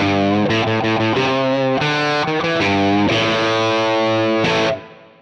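Distorted electric guitar through a Line 6 Helix amp model with sag set to 5 plays a short riff of sustained chords and quick note changes, loud and close, then cuts off.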